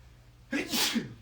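A single sharp sneeze bursts out nearby after a moment of quiet room hiss.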